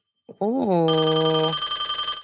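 A telephone ringtone rings loudly and steadily in a pulsing electronic pattern, following a short burst of voices at the start.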